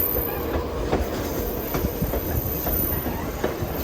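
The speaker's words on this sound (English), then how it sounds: "There's our train going around the corner." A train rumbles along the rails around a curve in Alaska, with rhythmic clicking wheels and faint squeals, a steady continuous rolling noise at moderate distance.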